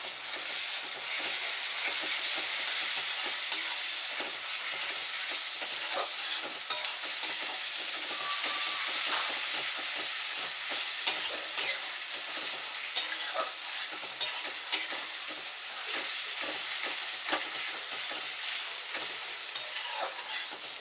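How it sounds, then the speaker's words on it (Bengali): Garlic paste sizzles steadily in hot oil in a pan, with frequent scraping stirs of a spatula clicking through the continuous frying hiss, close and moderately loud with no voices. "এবার দিয়ে দিচ্ছি রসুন বাটা, 1 চামচ মতো রসুন বাটা।"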